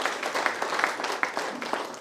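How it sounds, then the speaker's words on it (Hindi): An audience at a spiritual class claps together in a moderate, fairly even burst of applause, with individual claps audible within the sound of the group and no one speaking over it. "ताली बजाइए।"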